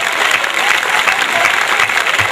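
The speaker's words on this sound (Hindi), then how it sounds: "तालियां मिलकर बजा दो एक बार।" A kavi sammelan poetry audience bursts into dense, continuous applause that stays loud and even throughout, with no voice rising above it.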